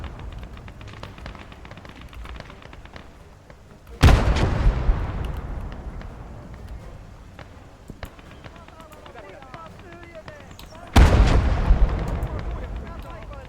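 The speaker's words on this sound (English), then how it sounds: "I think we've got enough artillery here." Artillery fire in the World War II-era game Blood Red Snow lands as two heavy, booming blasts roughly seven seconds apart, each followed by a rumbling tail over a steady bed of battlefield noise.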